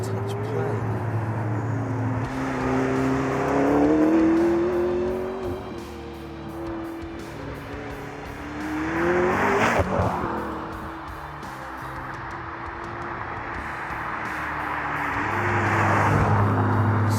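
McLaren MP4-12C sports car engine revving and pulling hard under acceleration, rising and falling through gears with a tire squeal near the middle, steady and fairly loud beneath someone talking throughout.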